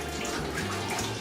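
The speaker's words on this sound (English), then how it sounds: "I'm gonna wet my hair now." Steady running water from a tap pours over hair being wetted, a continuous close, even rush with no talk.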